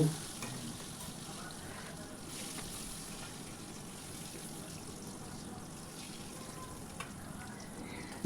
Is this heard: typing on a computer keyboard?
no